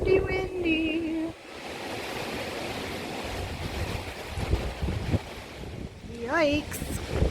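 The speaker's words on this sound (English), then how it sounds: "Windy, windy." Gusty wind buffets the microphone with a steady rushing roar in Italy, while a person talks briefly at the start and again near the end.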